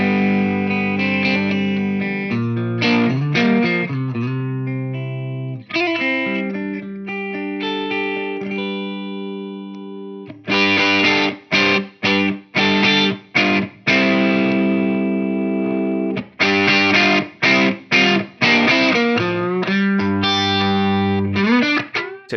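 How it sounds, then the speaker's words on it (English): An electric guitar in a classic Les Paul into Marshall style setup runs through a Drybell The Engine boost and distortion pedal. Overdriven chords ring and sustain, then give way to choppy, rhythmic stabs with short silences between them. "with the distortion running into the boost, which will provide a more functional volume boost and general tone shaping a little bit more dramatically"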